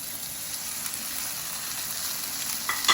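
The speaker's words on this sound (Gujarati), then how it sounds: "હવે આપણે એડ કરીશું અંદર આપણા જે નૂડલ્સ હતા એ રહે." Spinach and beetroot flavoured wheat noodles hit a little hot oil in a pan. A steady, moderate sizzle runs on its own, and a short utensil clatter comes at the very end.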